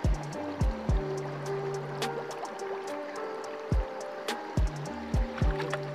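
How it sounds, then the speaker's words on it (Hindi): An anar firework fountain burns underwater under pressure, giving repeated bubbling, gurgling bursts and falling watery glugs in uneven pulses, close and fairly loud, with no speech. "ये अनार पानी में भी जल गया, मतलब गाइज यार पानी में और प्रेशर के साथ जला।"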